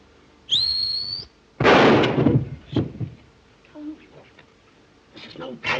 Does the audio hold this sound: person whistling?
yes